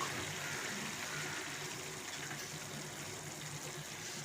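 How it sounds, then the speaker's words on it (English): Coconut milk pours into a curry pot with pumpkin and peanuts on a reduced flame, making a steady, soft liquid rush that runs evenly and fairly quietly throughout. "So we're now pouring the coconut milk inside."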